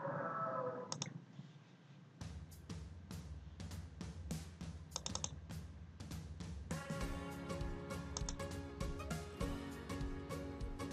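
A computer mouse clicks repeatedly while exporting a drawing in Inkscape, sharp close clicks coming in an irregular series over quiet background sound, with no talk.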